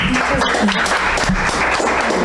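Applause in a hall for the coordinator of a youth chapter, a short burst of dense clapping that is loud and close, with murmuring voices mixed in.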